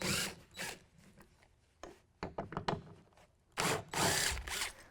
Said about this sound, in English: We're going to use a T40 Torx bit to pull those out.